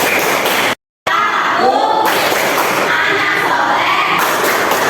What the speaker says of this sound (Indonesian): kita menambah semangat kita dengan tepuk anak soleh